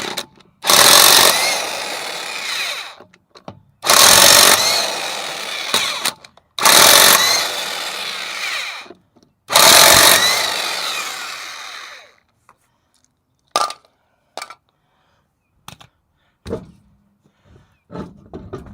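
An electric impact wrench removes lug nuts from the rear wheel of a 2003 Ford F150, running in four loud sustained bursts of hammering whir, followed by scattered clanks of nuts and tools.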